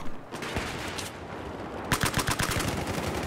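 Gunfire in the video game Battlefield 4, a sparse shot or two followed by a rapid automatic burst of loud cracks that fills the second half, with no talk.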